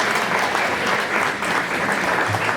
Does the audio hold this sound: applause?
yes